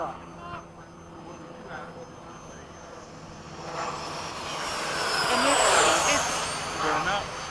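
A Freewing 80mm F-5 RC jet with an outrunner-driven ducted fan flies past at a flying field, its whine rising and growing louder as it nears, then easing off, with people talking throughout.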